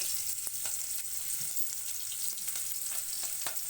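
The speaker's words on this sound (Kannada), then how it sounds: "ಸೊ ಇದು ಸ್ವಲ್ಪ ಫ್ರೈ ಆಗಬೇಕು ಫ್ರೆಂಡ್ಸ್" Food for a sprouted horse gram curry fries in a pan, a constant nearby sizzle broken by a few light stirring clicks and scrapes, with no voices.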